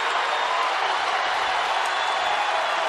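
A basketball arena crowd during an NCAA men's game between Nevada and Wyoming, a steady broad roar of cheering and applause that holds at even loudness throughout.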